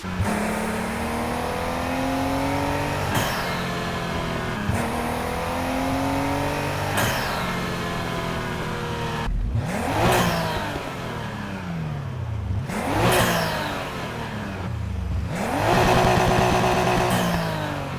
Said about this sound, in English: let's go with HKS sort of blow-off valve whoosh sound